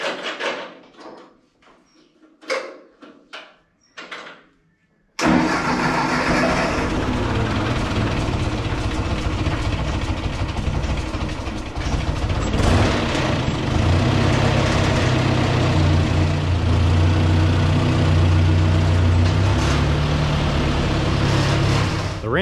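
A Ford Jubilee tractor engine turns over and catches after a few brief clanks, then settles into a steady, loud, throbbing idle that carries on alone.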